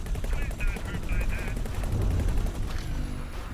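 Rapid weapons fire rattles around a space station during a battle in the space game X4: Foundations, a dense, loud burst of repeated shots with a rising whine near the end.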